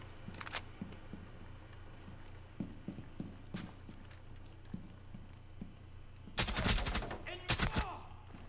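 Rainbow Six Siege gunfire: scattered faint distant shots and footsteps, then a loud close burst of rapid automatic fire near the end, followed by a couple more sharp shots.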